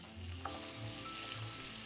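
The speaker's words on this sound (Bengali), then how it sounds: "মাছ গরম তেলে ভাজার সময় ভীষণ ফাটে" Hot oil sizzles and sputters steadily as pabda fish fries, a close, continuous crackling hiss with a few sharper pops.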